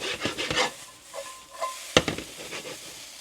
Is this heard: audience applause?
no